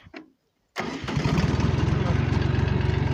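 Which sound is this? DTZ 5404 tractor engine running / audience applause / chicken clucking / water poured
DTZ 5404 tractor engine running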